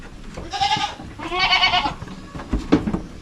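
Goats bleat loudly and close by at a farm where a mother goat has a newborn kid, with two drawn-out cries and a shorter call over rustling background noise.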